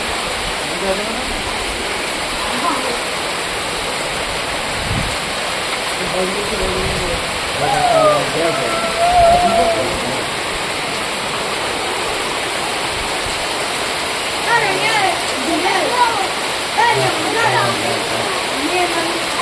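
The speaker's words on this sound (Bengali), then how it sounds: "প্রচুর বৃষ্টি হচ্ছে" Heavy rain falling outdoors, a dense, continuous hiss of downpour that persists steadily throughout, with faint distant voices and a few bird-like chirps underneath.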